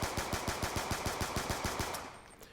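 Rapid-fire video game gunshots triggered by a Viking macro controller, a fast, evenly spaced volley of about fifteen loud shots that stops abruptly near the end.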